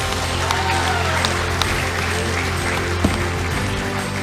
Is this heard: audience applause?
yes